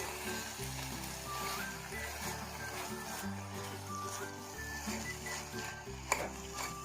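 Beetroot curry is stirred in a pan over a medium flame, giving soft, faint scraping and a light sizzle under quiet, steady background music.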